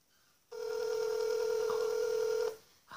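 A telephone gives a loud, steady electronic tone lasting about two seconds before cutting off sharply, while a number is being dialed to return a call from the Washington, D.C. area. A brief click or tone follows, and no one speaks.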